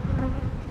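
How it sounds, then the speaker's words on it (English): Honey bees crowding nuc frames during a hive inspection, a dense close buzzing hum lasting under a second, steady and moderately loud with no talk. "Man, these is just caked with bees."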